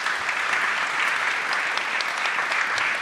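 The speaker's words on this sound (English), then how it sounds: "warm round of applause" At a European Maritime Day gathering, an audience gives a warm, steady round of applause, the dense clapping holding at an even level for a few seconds without talk over it.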